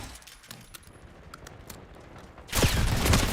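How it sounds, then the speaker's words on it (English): Gunfire in Call of Duty: after a quiet stretch of faint clicks and taps, a loud sustained burst of rapid automatic fire erupts and continues to the end, close and dense, with no talking. "I shoot a lot of bullets"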